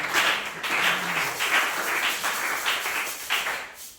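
Congregation clapping at a church service, a steady patter of many hands that stays moderately loud for the whole stretch, with no voices over it.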